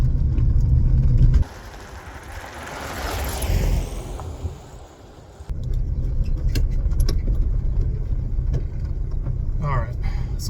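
Classic Volkswagen Beetle driving, engine drone rising and falling as it pulls away, with a sharp drop in level partway through and steady rumble resuming, faint voice in the background.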